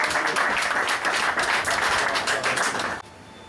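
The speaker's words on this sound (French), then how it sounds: "Applaudissez d'abord pour le nez" Audience applauding at an eighth-anniversary celebration of a community family association in Indonesia, a steady dense burst of clapping for about three seconds before it cuts off abruptly into quiet room tone.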